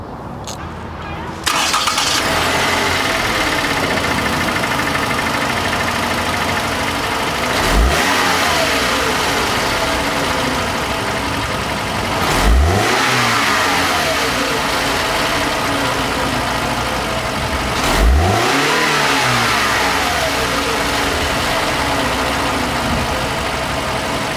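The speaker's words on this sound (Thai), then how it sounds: "มาฟังเสียงเครื่องยนต์กัน" A Toyota Camry 2.0 engine idles steadily, then is revved three times at regular intervals, each rev rising and falling back to a smooth idle.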